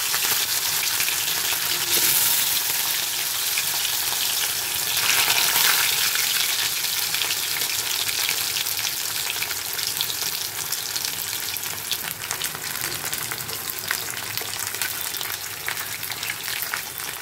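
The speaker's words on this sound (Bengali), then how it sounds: "মাছগুলো ভাজা হয়ে গেছে," Pieces of fish frying in a pan of oil, a steady broadband sizzle that holds close and fairly loud throughout, with faint crackles and no voices.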